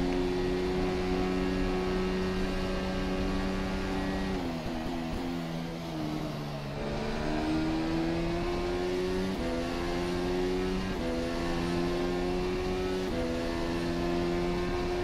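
A Formula SimRacing FSR 2018 development car in rFactor 2 screams around Monza, its high engine note holding steady, then dipping and climbing through a series of quick gear changes, loud and continuous with no talk.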